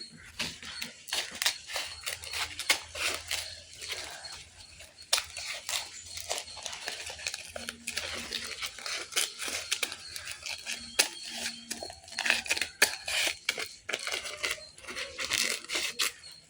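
Scissors cutting paper to make a kite, giving a quiet series of crisp snips and rustling paper crinkles in irregular bursts, close by, with no talking.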